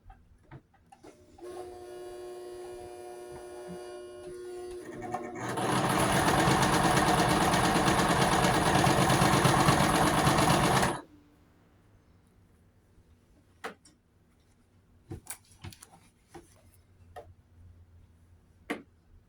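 A sewing machine stitches stretch fabric in zigzag, first at a slower, lighter pace, then a loud, steady close whir for about five seconds before stopping, followed by a few faint clicks and handling noises.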